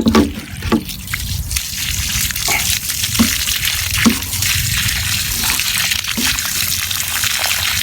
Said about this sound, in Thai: เราจะล้างให้สะอาดสะอาดเลยนะครับท่านผู้ชม